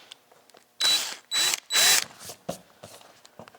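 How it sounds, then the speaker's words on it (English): A power drill bites into a wooden trim piece made for a 1956 Chrysler in three loud, close bursts, followed by softer scraping and tapping sounds. "this one didn't drill all the way through"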